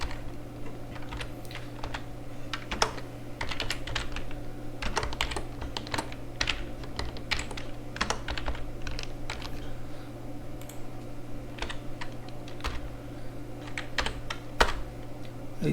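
Rapid, irregular clicks of a computer keyboard as shell script code is typed line by line, close and fairly soft over a steady low hum.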